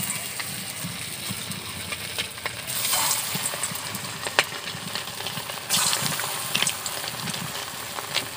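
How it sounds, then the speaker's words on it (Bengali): Round fish fritters (bora) fry in hot oil in a kadai, a continuous close sizzle that swells louder in two bursts as more batter goes in, with scattered clinks and pops, no voices. "তেল গরম হয়ে গেছে, এবার আমি গোল গোল করে বড়াগুলো ভেজে নেব।"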